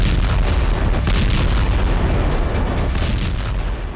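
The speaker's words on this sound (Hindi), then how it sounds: "कहीं जोरदार धमाकों के साथ आग का गुब्बार उठता नजर आया।" Explosions in southern Lebanon rumble through a continuous, loud, dense roar of booming and crackling blasts, with no clear gaps between them, captured from a distance in news footage.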